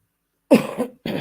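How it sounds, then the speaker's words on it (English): A person coughs twice in quick succession, close and clear, after a moment of silence. "Excuse me for coughing."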